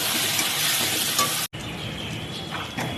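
Chicken masala sizzles and fries in hot oil in a pan, a steady close crackling hiss with stirring scrapes, briefly cut off mid-way and then resuming.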